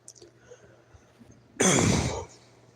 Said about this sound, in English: I still got the coughs from like allergies, but I'll be okay.